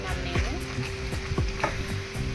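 Oil heating in a hot kadai for Telugu boondi curry gives a steady close sizzle, crossed by a few faint clinks and scrapes of utensils, with no voices.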